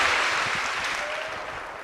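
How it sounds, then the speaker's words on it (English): Applause for a volunteer from a university lecture-hall audience: a steady wash of many hands clapping, fairly loud and fading slowly toward the end. "A round of applause for our first volunteer"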